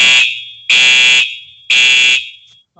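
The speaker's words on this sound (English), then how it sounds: "Well, that's a fire alarm." A fire alarm blares in three loud, shrill electronic bursts of about half a second each, separated by short gaps, with nothing else audible around them.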